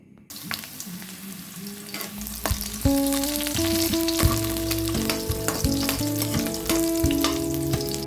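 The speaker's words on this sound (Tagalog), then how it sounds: "meron na ngang mantika yung aking kawali. Kaya mainit na yan, ilagay ko na rin yung aking bawang." Garlic hits hot oil in a pan and erupts into loud, crackling sizzle, with repeated sharp spatters and metallic clinks of stirring over the steady frying roar.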